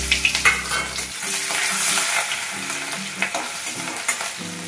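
Chopped tomato frying in oil with garlic paste for a fish roe curry, a steady close sizzle with scattered spatters and stirring scrapes throughout. Low tonal hum sounds at the start, then faint background tones recur under the frying.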